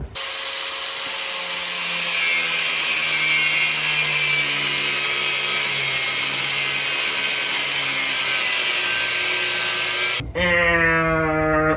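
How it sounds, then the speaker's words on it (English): An angle grinder cuts steel on a worn GM 10-bolt front axle from a 4-door squarebody Blazer, a loud continuous high whine held for about ten seconds before it cuts off and a voice speaks. "Because we just take a grinder."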